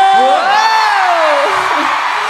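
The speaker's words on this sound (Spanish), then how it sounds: "¡El grito, el grito de las mujeres!" Women in a festival concert audience scream together, a loud sustained high-pitched whooping crowd cry rising and falling over about two seconds.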